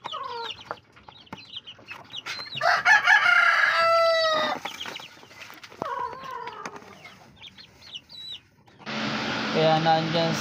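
Backyard chickens and roosters cluck and crow in a cramped pen, with a loud rooster crow near the middle and clucking hens around it, plus a burst of noisy squawking at the end.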